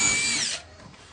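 A power drill whines loudly for about half a second while driving a screw into a bathroom frame without a pilot hole, then cuts off, leaving quiet room noise.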